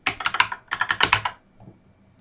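Quick bursts of typing on a computer keyboard, two rapid runs of close, crisp keystrokes separated by a short pause, then silence.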